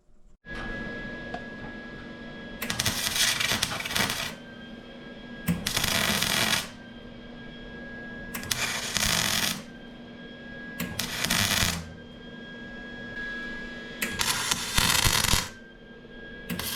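MIG-style welding on the thin, crinkly floor metal between the seat mounts of a Dodge Challenger SXT, heard as about six separate crackling, sputtering bursts of a few seconds each, with a steady faint whine continuing underneath between welds.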